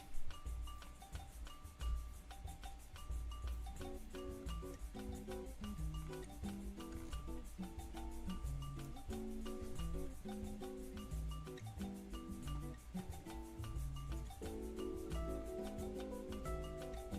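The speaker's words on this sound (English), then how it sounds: "Cut these. It's not acrylic, it's now 3mm plywood." Sheets of 3mm plywood being cut by a machine: a steady, dense scraping and rubbing texture runs throughout, fairly loud and continuous with shifting tonal buzzes and no speech.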